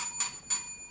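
A debate timing bell gives two quick bright rings, close and clear, with ringing overtones decaying between strikes and nothing else heard.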